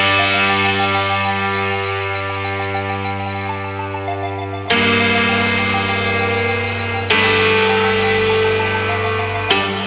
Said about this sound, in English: And that one has some delay and reverb because this is another atmospheric sound, so we need that spaciousness.